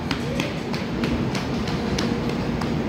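A train rolls through a station with a steady rumble and a regular clickety-clack of wheels over rail joints, close and continuous.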